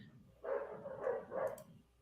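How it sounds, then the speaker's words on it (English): A dog barks three times in quick succession, moderately close by, with a quiet background and no talk. "Yeah, that's my dog."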